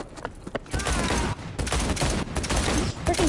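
Dense gunfire from Cyberpunk 2077 rattles out in loud, rapid bursts that run almost continuously, with a few separate shots at the start.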